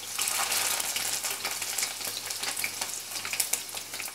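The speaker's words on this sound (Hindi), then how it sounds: "हरी मिर्च को लंबे टुकड़ों में काट कर डालेंगे।" Green chillies, cloves and cinnamon sizzle steadily in hot oil in a kadhai, a dense, continuous close-up crackle with small pops and spatters throughout.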